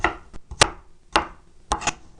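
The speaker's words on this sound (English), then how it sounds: "chop it once across, and then chop it like that" A knife chops through onion layers on a cutting board, giving four sharp, close thunks spread unevenly over about two seconds, with no talking.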